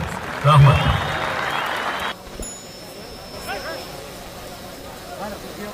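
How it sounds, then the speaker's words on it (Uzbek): Spectators at a kurash wrestling tournament in Termez, Uzbekistan, applaud the wrestlers in a short, dense burst that stops abruptly. Someone talks over a public address system, and crowd murmur continues under a faint whistle. "Bir qarsaklar bo'lsin polvonlarimizga."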